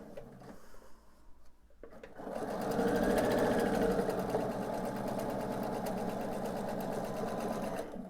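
A sewing machine stitches a quarter-inch seam on a pieced quilt block. After a brief quiet start it runs in a steady, close, continuous whir for about six seconds, with no voices.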